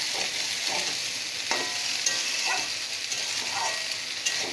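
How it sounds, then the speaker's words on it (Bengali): Potatoes and drumstick pieces sauté in a pan over low heat, a steady close sizzle with intermittent scraping stirs of a spatula, no voices. "গ্যাসটা আস্তে দিয়ে দেবো, দিয়ে আমি ভালো করে কষিয়ে নেব"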